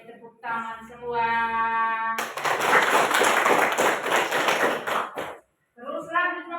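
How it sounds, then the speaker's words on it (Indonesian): A classroom of students clapping their hands together, a dense burst of applause lasting about three seconds between stretches of a speaking voice. "Oke, tepuk tangan semua."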